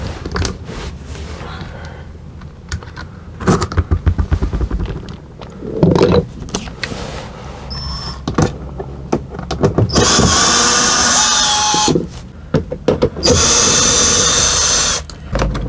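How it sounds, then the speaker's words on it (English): An RV power converter being worked loose and pulled out of its wall mount, with close clunks, scrapes and rattles, then a long loud harsh burst of noise from about ten seconds in. "now let's pull the converter out of the wall."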